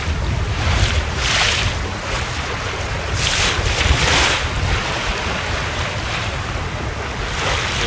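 Ocean surf and steady wind around a sailing boat near a reef at the Fitzroy Reef lagoon entrance, with waves surging in a few broad swells over a constant rush of wind buffeting the microphone; no voices.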